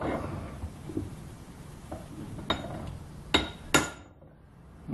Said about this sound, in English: Hit it with a hammer. A ball peen hammer.